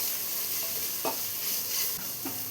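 Green chilies, crushed ginger and garlic sauté in a pan for a Kadachakka chicken kuruma, a steady close sizzle broken by a few scraping stirs of the spoon.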